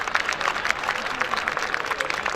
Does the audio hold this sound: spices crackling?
no